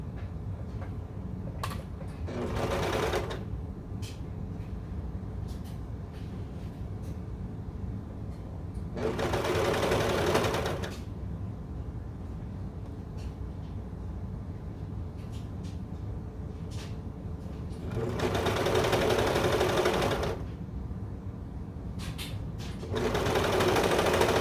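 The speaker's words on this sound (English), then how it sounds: "You just serge around it." A serger, or overlock machine, stitches around baby bummies fabric in four loud, steady bursts of a few seconds each, with quieter handling and clicks between the runs.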